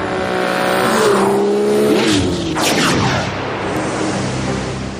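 A cartoon car revs and speeds away with a rising engine whine, squealing tires and a fast pass-by whoosh, loud and close, then fades into background ambience.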